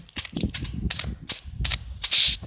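Gunfire from a shooter video game: a rapid series of sharp, loud, near cracks in uneven bursts, roughly a dozen shots over a couple of seconds with little else between them.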